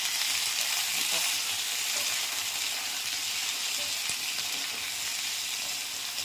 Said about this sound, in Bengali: চলো এটা একটুখানি ভালো করে ভাজা ভাজা হোক